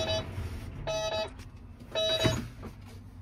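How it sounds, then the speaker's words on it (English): An electronic phone ringtone repeats in short bursts inside a tractor cab, with a low engine hum running underneath. "it won't stop ringing in the cab"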